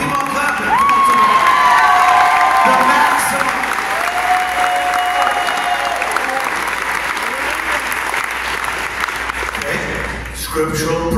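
Continuous loud applause from a large church audience, with cheering and shouts rising over it before tapering slightly near the end.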